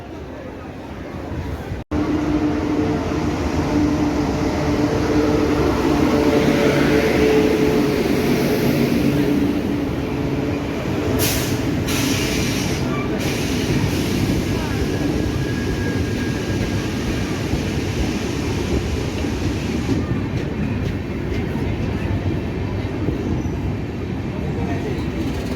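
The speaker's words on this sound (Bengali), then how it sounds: "আমাদের ট্রেন এখন ঢুকছে 13054 রাধিকাপুর হাওড়া কুলিক এক্সপ্রেস" The 13054 Radhikapur–Howrah Kulik Express pulling into a station, a loud continuous rumble and roar that holds steady for most of the stretch, with brief sharp clanks near the start and a few more midway. It is close and alone, with no voices.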